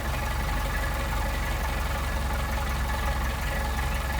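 A Mercedes 190SL engine fitted with a Solex carburetor idles low. It gives a steady, even rumble with no break, running close and fairly loud.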